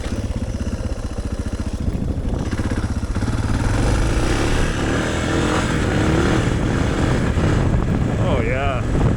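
The engine of a Suzuki DR650 motorcycle thumps and roars close up while riding a trail, the pulsing drone climbing under throttle, with a voice talking over it near the end.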